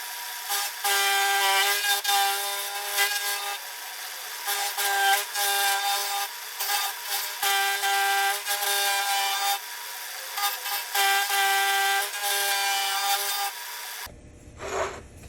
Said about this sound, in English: So let's get on the milling machine and mill it.